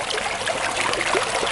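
A creek runs over rocks and frothy foam in a woodland setting, giving a close, bubbly trickling and gurgling wash with no voices over it.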